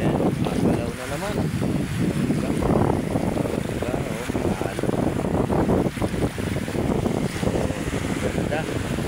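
Rough sea at Manila Bay: waves wash and churn continuously while strong wind buffets the microphone with heavy rumbling gusts, loud and close for the whole stretch.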